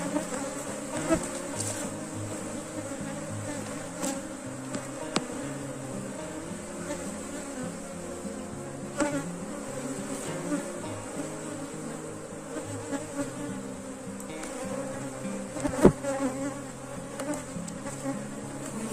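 Honeybees swarm in an apiary with a steady, dense buzzing drone that holds throughout, set among hives, with a few brief knocks standing out above the continuous hum.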